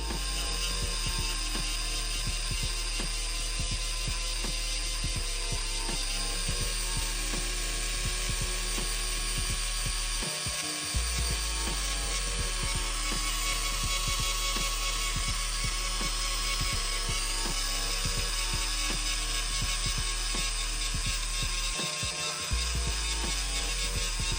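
A steady whirring, grinding mechanical noise of a power tool polishing a metal gun hammer runs nonstop, with rapid ticking and chattering throughout.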